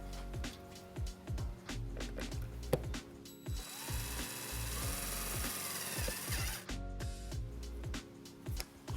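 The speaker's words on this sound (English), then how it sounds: "we're going to attach our white wire to the ground with our provided self-tapping screw" A self-tapping screw is driven to fasten a ground wire on a 2006 Hyundai Tucson during a trailer wiring harness install, with faint ratcheting clicks and a brief whir of the driver midway. No one speaks.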